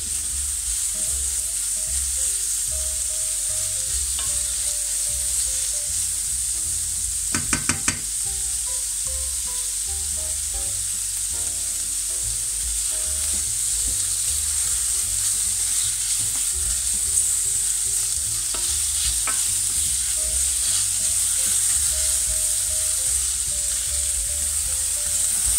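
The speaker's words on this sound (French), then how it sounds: "Je fais revenir un peu." Vegetables sauté in a pan for a pattypan squash gratin with leeks and goat cheese, giving a long, even frying sizzle with occasional stirring clatter and utensil knocks, close and continuous.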